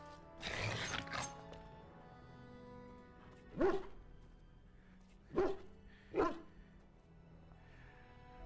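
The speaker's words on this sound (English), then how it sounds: "you've got your Mabari well in hand" Three sharp barks from a Mabari war dog in the video game Dragon Age Origins, evenly spaced and fairly close, each rising clearly over a soft ambient bed after a brief rustle at the start.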